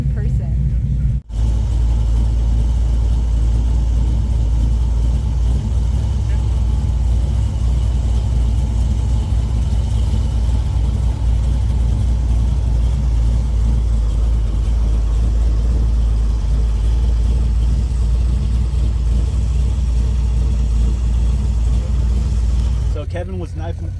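A 1968 Dodge Charger drag car's engine running steadily during tuning, a loud, close, constant low rumble that holds for the whole stretch, with a brief drop near the start.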